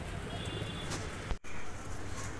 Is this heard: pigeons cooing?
yes